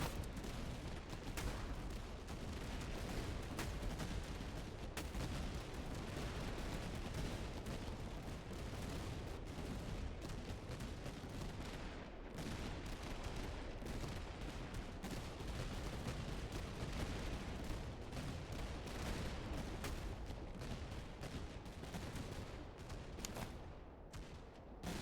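Dense battle gunfire and cannon artillery booms from the video game Master of Command roll on continuously in a loud, crackling barrage with no pauses.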